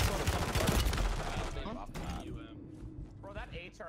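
Dense bursts of rapid UMP 45 submachine gun fire in Warzone on Rebirth Island, loud and sustained for over a second, then trailing into scattered shots while voices talk over it.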